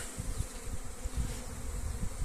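Honeybees flying around hives at a mountain apiary, a steady dense buzzing hum that stays close and continuous, with soft wind noise beneath and no talking.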